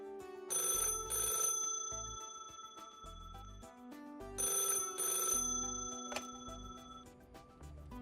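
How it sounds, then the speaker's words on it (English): A landline telephone rings in two long bursts with a pause between them, a bright electronic trill heard clearly over a soft musical background. "Oh, is that a phone ringing? Is that a landline?"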